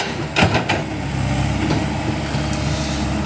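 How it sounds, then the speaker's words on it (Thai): A Komatsu PC138US excavator engine revs up, a steady rough motor drone close by with a couple of sharp knocks near the start, then continuing at a constant level. "อ่าเริ่มเร่งเครื่องใส่แล้วครับ"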